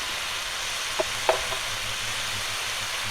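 Crab masala with chilli powder, turmeric and a splash of water stir-frying in a pan, giving a steady loud sizzle with a couple of sharp spoon scrapes against the pan near the start.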